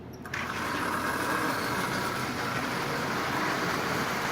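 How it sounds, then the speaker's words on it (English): A Marx 994 toy train fitted with a Marx 490 double reduction motor, pulling 16 cars, runs around the track with a steady, close whirring rumble that starts abruptly and holds evenly throughout. "So its first trip around the rail with its new motor, so a Marx 994 with a Marx 490 double reduction motor."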